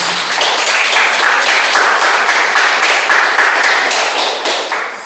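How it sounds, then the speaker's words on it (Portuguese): A church congregation gives loud, dense applause that stays steady for about five seconds before easing slightly at the end. "Você pode dar um aplauso ao Senhor Jesus?"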